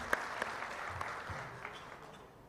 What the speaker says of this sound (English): Let us have a big round of applause for Shri S.